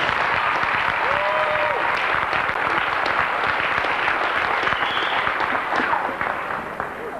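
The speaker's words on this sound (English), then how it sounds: "Let's give Randy Quellis a great round of applause" An audience at a TaeKwon-Do championship event gives a round of applause, with sustained crowd clapping throughout and a brief tonal sound in the background, easing off near the end.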